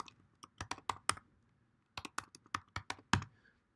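Quick bursts of keystrokes on a computer keyboard while entering a password, two runs of crisp close clicks separated by a short pause, heard alone without speech.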